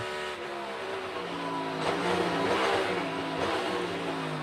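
A race car at the 2022 EchoPark Automotive Grand Prix downshifts into turn 12, its loud engine dropping through gears with repeated rev blips, then climbing again as it accelerates off the apex, close and continuous with no talk.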